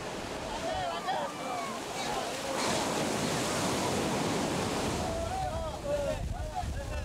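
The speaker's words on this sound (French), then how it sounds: "Aujourd'hui, par chance, la mer est calme." Calm sea washing onto a beach where fishermen haul nets from a large boat, a steady soft surf roar swelling midway, with wind buffeting the microphone and faint calls in the background.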